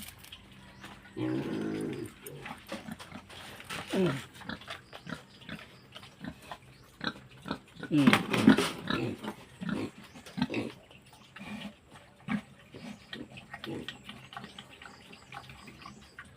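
Piglets and pigs grunting and oinking at feeding time on a small farm, irregular snorts and squeals of moderate loudness with bursts around the middle, mixed with background bird calls.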